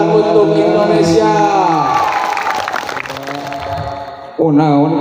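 A Sundanese religious lecture audience claps and cheers for Indonesia right after singing Indonesia Raya. The applause swells as a busy crowd wash mid-clip, between sung or spoken voices at the start and end.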